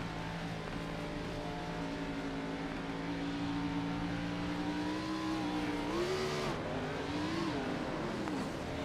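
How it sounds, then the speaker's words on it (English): Onboard a NASCAR Xfinity race car at Rockingham, the engine holds a loud sustained drone that climbs in pitch, then wavers and dips as revs rise and fall, over constant road and wind noise. "take a listen to the engine."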